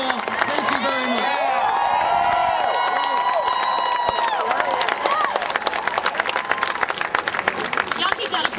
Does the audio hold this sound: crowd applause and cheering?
yes